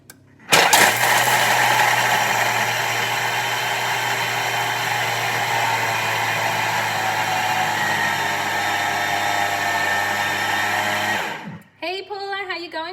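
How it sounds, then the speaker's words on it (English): A Thermomix milling cashews at high speed: a loud, steady whirring roar with a low motor hum starts abruptly, holds for about ten seconds, then winds down, with a voice talking briefly after it stops. "I'm just going to mill that again just for 10 seconds"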